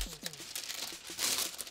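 Packaging crinkles and rustles close by during the unboxing of Nike Adapt Huarache sneakers, a brief flurry of papery crackles and soft tearing noises.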